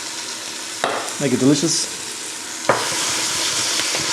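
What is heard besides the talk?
onions and garlic cooking in a big pot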